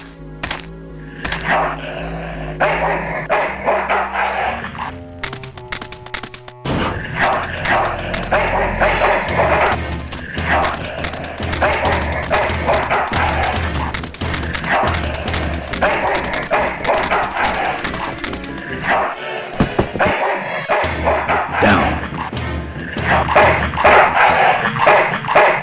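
An ill-tempered dog barks repeatedly in the adventure game Full Throttle, loud yapping and growling over game music and thumps, with some voiced dialogue mixed in.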